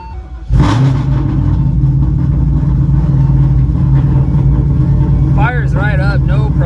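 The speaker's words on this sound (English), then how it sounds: "So let me get this thing fired up" A Shelby GT500 with a 6R80 transmission swap cold-starts with a sudden loud crank and catch, settling into a deep, choppy, lumpy idle that rumbles close and heavy, with a voice talking over it near the end.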